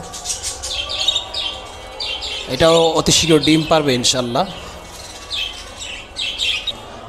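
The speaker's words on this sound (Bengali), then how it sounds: "এটাও একদম ফুল রানিং বাজিগার পাখি এটার ফিমেলটা হাড়িতে আছে" Pairs of budgerigars in a breeding setup chirp and twitter in quick bursts throughout, close and fairly loud, while someone talks in the middle.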